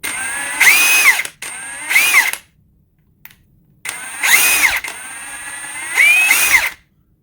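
A Ridgid high-torque impact wrench running at speed 3, loud close bursts of whirring motor noise, four trigger pulls of about a second each separated by short silences.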